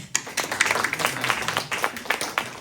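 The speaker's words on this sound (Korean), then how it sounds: "박수로 환영" Church congregation at a Sunday service clapping in welcome for returning guests, a dense patter of hand claps at moderate distance with scattered voices mixed in.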